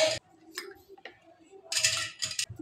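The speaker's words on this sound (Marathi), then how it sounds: "आता चिमट्यानंच मी इथं भांडी काढून घेते" Silver puja vessels lifted with tongs from a pan of cold water, giving a few light metallic clinks and taps spaced irregularly, close and fairly quiet.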